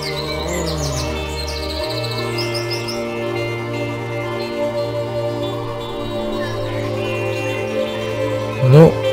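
Birds chirp and tweet in S.T.A.L.K.E.R.: Lost Alpha, several bright, repeated calls over a steady low musical drone, loud and close throughout.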